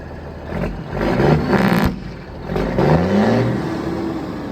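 A heavy Kenworth W900 diesel truck engine revs up loudly and close by, rising in surges, with a deep rumbling drone underneath.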